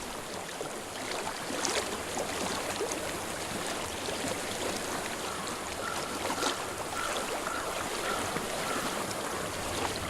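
A stream rushes loudly and continuously in Hellblade: Senua's Sacrifice, water flowing close by as a dense, even roar with faint splashy flickers and no voices.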